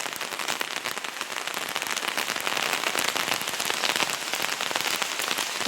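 Heavy rain pours steadily on lush green plants outdoors, a dense continuous hiss of drops that grows slightly louder partway through, with no voices.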